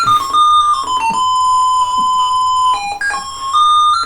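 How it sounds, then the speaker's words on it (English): Square-toned PC speaker beeps play a simple melody of sustained and stepping pitches from a 1987 Sierra computer game, loud and continuous with no other sound. "That was actual PC speaker beeps because there were no sound cards in PCs in 1987."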